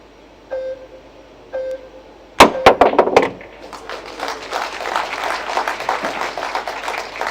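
A crowd bursts into loud, sustained applause and cheering for a shot at the Predator WPA Men's 10-Ball World Championship semifinal. It follows a few short electronic beeps and stays dense and steady to the end.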